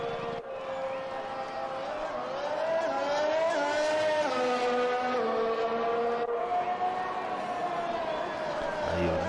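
Formula 1 car engine on track in F1 2021, a high-pitched whining engine note rising and falling with gear changes, loud and continuous, as if passing nearby.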